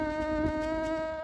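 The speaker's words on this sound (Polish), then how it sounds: "Tylko zaś tyle komarów," Mosquitoes buzz outdoors at the edge of a large city, a steady, thin, high-pitched whine that holds continuously and fairly close, slightly rising and falling, with no speech.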